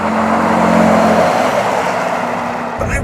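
A 2017 Ford F-150 Raptor engine pulls hard under acceleration, a steady loud drone with piped-in engine sound heard from inside the cab, easing off near the end.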